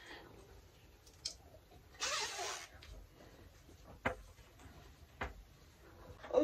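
A clothing zipper handled while sewing a woman's trousers with a side pocket and fly zipper: a broad rasping zip burst near the middle, then several short sharp clicks and ticks of the slider and fabric, quiet and close.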